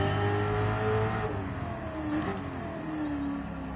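A race car in Gran Turismo 7 holds a loud, steady engine note that drops in pitch as it downshifts, then climbs again while revving, close and continuous with no talking.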